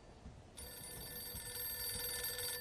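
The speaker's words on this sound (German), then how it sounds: "Das Telefon klingelt." A telephone rings in a 1940s-style home in the video game Mafia II, a faint steady ring that rises out of quiet room tone and carries on unbroken.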